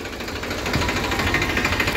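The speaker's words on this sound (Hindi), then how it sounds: "यहाँ पे नई बैटरी के साथ शानदार जो है आवाज़ है ट्रैक्टर की" A Farmtrac 45 tractor, 45 hp, fitted with a new battery, idles with a close, steady diesel chug and rhythmic low vibration, fairly loud and alone without talk.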